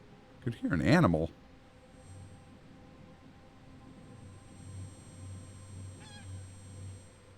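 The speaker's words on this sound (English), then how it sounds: "Maybe some kind of bird?" A brief honking bird call in the video game Metal Gear Solid V sounds near the start, loud and goose-like, followed by a low steady rumble and a faint distant second call.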